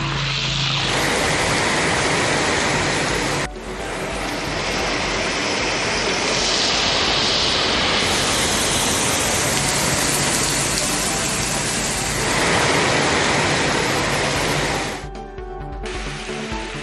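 Heavy overnight rain in the Tiruvarur district, a dense, loud, unbroken roar of downpour with a few abrupt level changes.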